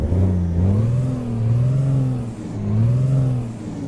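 A Peterbilt 281/351 truck's Cummins engine in American Truck Simulator, a loud close diesel rumble with rising and falling revs in slow waves, engine alone.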